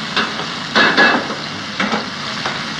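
Cooking oil heating in a pan in a Thai kitchen, with a steady low sizzle broken by several louder bursts of frying and stirring, close and clear with no talking.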